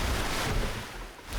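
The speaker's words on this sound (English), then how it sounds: "the ship's starting to slam into the water" A ship in the Survival: Fountain of Youth video game slams into open water, heavy low-end crashes and surf-like washing under wind, loud and continuous with a brief lull before another hit.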